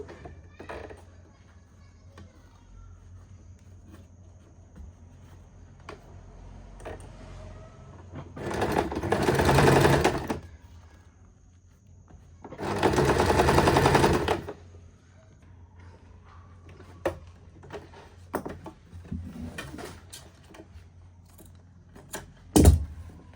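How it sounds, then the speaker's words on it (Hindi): A sewing machine stitches lace onto the hem of an Afghani salwar in two loud, close bursts of rapid whirring, each a few seconds long, with quiet handling clicks and rustles between them. "इस तरह से नीचे लेस को रखेंगे और इसके ऊपर पोंचे को और इस तरह से सिलाई लगा लेंगे बिल्कुल इसके पास पास।"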